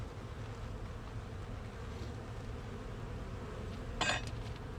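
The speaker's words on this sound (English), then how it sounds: "I'm going to shake the bees off of this one" Honey bees hum in a steady, close drone around a hive frame during honey extraction, a continuous buzz with a brief louder swell as one passes near.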